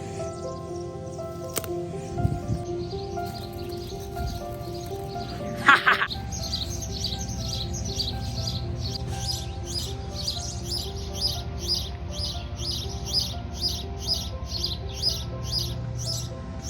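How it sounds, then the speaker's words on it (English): Small birds chirp repeatedly around backyard bird feeders, a fast, steady run of bright tweets in the latter two-thirds over a background hum, with a couple of knocks earlier and no talking. "That sound motivates me to keep my bird feeders filled."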